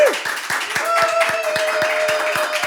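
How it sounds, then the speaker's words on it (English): An audience claps for a singer-songwriter, a brisk steady patter of hands with a few distinct sharp claps standing out, continuous and close, with a faint voice woven in near the start. "please a big round of applause for Lee"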